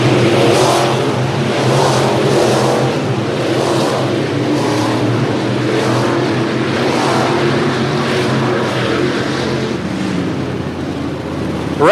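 Dirt-track race cars at Toccoa Raceway in Georgia roar continuously around the oval, engines surging and swelling in repeated passes, loud and steady throughout with no voices over them.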